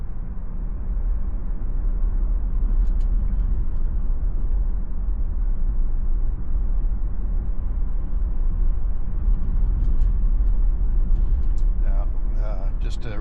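2026 Tesla Model Y on the road under Full Self-Driving, heard as a steady low cabin rumble of tires and road noise throughout, with someone talking over it.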